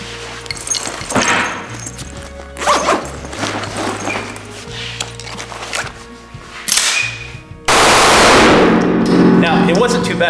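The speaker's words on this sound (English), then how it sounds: "unzip it, grab it. I'm actually going to chamber it for safety, and then go ahead and fire a couple rounds" Close and loud: a gun bag unzipped with a zipper rasp, clicks and rustling as the firearm is handled and chambered, then sharp gunshots near the end, followed by a loud sustained blast of noise.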